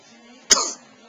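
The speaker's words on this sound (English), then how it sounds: "He's doing so many sneezes." A baby's sneeze, one short sharp burst near the mic, then a brief breathy tail and quiet.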